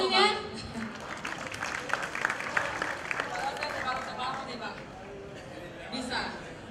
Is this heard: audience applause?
yes